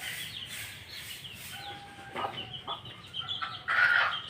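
White Kelso gamefowl clucking and crowing, several birds close by with overlapping calls and a louder crow toward the end over farmyard background.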